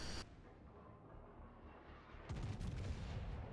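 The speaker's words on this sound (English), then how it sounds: "And we'll just keep shooting our main battery at the Graf Spee." Battleship main battery guns firing in the World of Warships naval game at a Bismarck-class target: distant, muffled booms that rumble low throughout, then a heavier salvo swells in roughly two-thirds of the way through.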